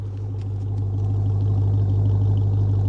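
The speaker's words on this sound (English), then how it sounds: "let's listen to that V8 a little bit before we go" Deep, steady rumble of a RAM TRX truck's V8 engine idling close by, a low throbbing burble that holds constant with no voices.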